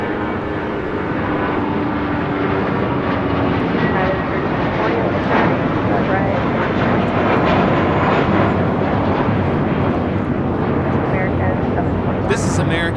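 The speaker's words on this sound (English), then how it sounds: "This is American Airlines 721 taking off to Phoenix on an A321" An American Airlines A321 taking off at LAX produces a loud, sustained jet roar that stays steady and rumbling throughout, with a voice talking over it.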